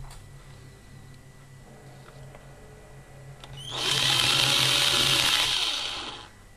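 A small drill bores holes in a thin recycled plastic circuit board, a steady high whir about two and a half seconds long rising out of a quiet hum and then stopping, close up with no talk.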